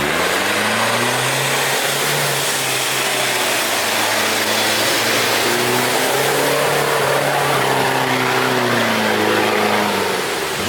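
A V8 all-terrain buggy engine drones loudly and close with a deep, steady growl, rising and falling in pitch as it revs through several long swells.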